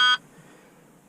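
A Mack truck lets out a short, loud electronic beep as its engine starts in mild weather, a single clipped tone that cuts off quickly and leaves a quiet hum behind it.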